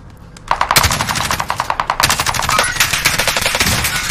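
Rapid automatic gunfire in a video game, a loud sustained burst of evenly spaced shots rattling close by with no talk over it.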